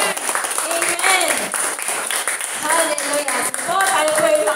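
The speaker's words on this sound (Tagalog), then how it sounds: "isa nga po malakas na palakpak para sa Lord" Loud, sustained applause fills a church for the Lord, a dense wash of clapping that swells and dips across the whole stretch while voices call and cheer over it.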